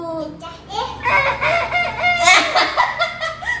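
A toy whistle is blown to mimic a rooster's crow, giving wavering, cock-a-doodle-doo-like warbling tones close to the microphone, with faint laughter mixed in.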